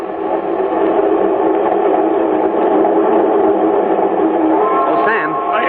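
A passenger train runs with a steady, continuous rumble and clatter throughout a radio drama, constant and fairly loud, with a voice briefly heard over it near the end.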